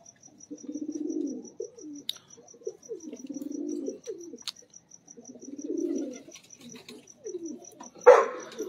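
Pigeons coo in low, rolling, repeated phrases from close by, with a steady faint high insect chirp pulsing throughout and a brief rustle near the end.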